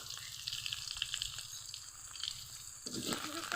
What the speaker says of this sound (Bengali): লাউগুলো ভেজে নিব